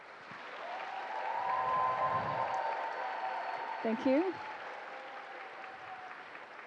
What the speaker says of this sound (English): Let's give her again a round of applause for her devotion towards cessation of war in this world.